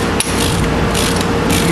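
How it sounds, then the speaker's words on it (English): Ratchet wrench driving a Time-Sert thread insert, a loud, close, continuous rapid clicking of the pawl throughout with a brief pause near the start. "You can see it's pretty easy with a ratchet wrench."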